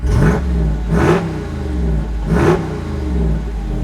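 A Jeep Wrangler Rubicon 392 V8 engine revs hard three times in quick bursts with its exhaust in the louder open mode, a loud, deep exhaust roar that settles into a rumbling idle between the revs.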